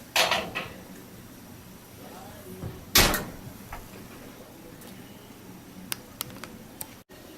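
Faint clunks and clicks, with a sharper bang partway through, as a kitchen oven door opens and swings shut, followed by light scattered taps.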